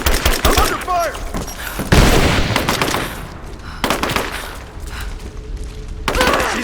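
Heavy gunfire in Rise of the Tomb Raider comes as loud, rapid automatic bursts and thudding impacts. Several volleys are separated by short gaps.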